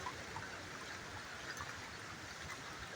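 Floodwater running along a road and carrying stones and mud, a faint, steady rushing flow like a stream that continues without pause and carries no talk.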